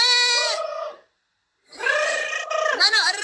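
A person imitates a goat's bleat, giving two quavering, nasal cries separated by a short silence, loud and close.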